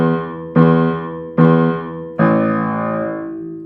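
Piano playing a very low bass E an octave down, three heavy sustained strikes at a steady pace, each ringing and decaying, loud and alone.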